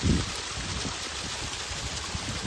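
Flowing water of the Ganesh river near Jambre in the monsoon countryside, a steady broadband rush with low rumbling gurgles, continuous and fairly close with no voices.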